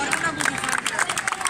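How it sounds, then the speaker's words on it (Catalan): A festival crowd applauds the giants at the Festes de Sant Josep Oriol in Barcelona: dense, steady clapping mixed with crowd hubbub and some voices throughout. "un fort aplaudiment per a ells"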